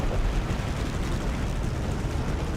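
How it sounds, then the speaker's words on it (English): Harassment and interdiction artillery fire in War Thunder, from a match driving a Matilda Mk.II tank: a dense, continuous rumbling roar of distant barrages, steady and loud throughout with no clear separate shots. "let's put some H&I out. That's harassment and interdiction artillery fire"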